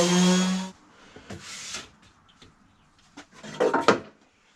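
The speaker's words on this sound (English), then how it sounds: "so I'll just sand all this down" Sanding old fire-damaged timber by hand comes through as a few short scraping rubs in separate bursts, close and moderately loud, with a quiet gap between strokes.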